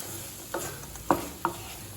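Fried cauliflower chilli being stirred in a pan with coriander just added, a few soft scraping strokes of a spoon over a faint sizzle.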